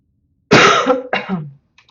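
Two harsh coughs in quick succession, loud and close, with a rough throaty tail, then quiet.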